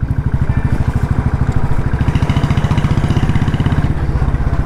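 Royal Enfield Bullet 350 motorcycle, an outgoing discontinued model, idling close by with a steady low thumping beat and metallic clatter, no voices.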